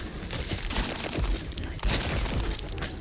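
A shotgun firing in the video game Witchfire produces dense, loud, booming blasts that fill the whole stretch with a continuous crash of noise.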